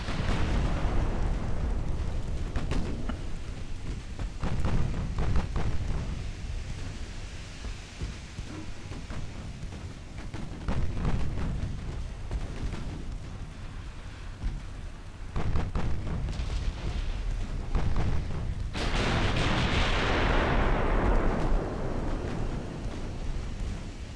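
Naval turret gunfire in the Ultimate Admiral Dreadnoughts warship game, heavy booming blasts and rumbling explosions layered over steady wind-like noise, with a sharp loud burst late on and no voice.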